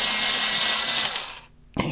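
A dark phthalo green colored pencil is sharpened in a short steady grinding whir that cuts off abruptly, followed by a brief faint scrape.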